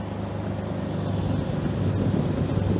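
A Jeep TJ engine running steadily after restoration, a low continuous idle hum with a faint rough edge and slightly rising level, heard close by without talk.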